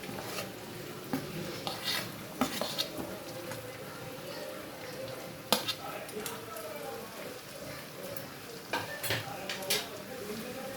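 Potatoes, fried beforehand, being stirred into chicken curry in a pan, with clinks and scrapes of a spoon against the pot and a faint sizzle running underneath, spread across the whole stretch.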